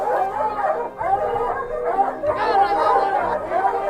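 A pack of hunting dogs barks and howls at a cornered lion near water, with overlapping, excited yelps and bays that continue without pause.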